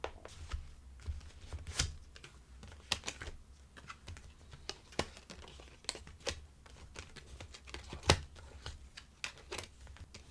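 Tarot cards are shuffled and drawn in a quiet room, a soft, close run of quick papery riffles and crisp snaps that come in uneven clusters.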